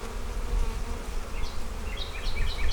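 Honey bees buzz steadily around an opened hive in a neglected bee yard, a close, continuous drone with a few brighter passing wing whines and no talking.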